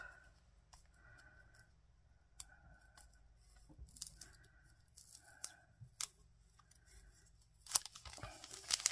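Transparent Christmas-themed gift wrap being unsealed and handled up close, with repeated soft crinkles, sharp tearing rips and a few snips, growing louder and busier toward the end; no talking.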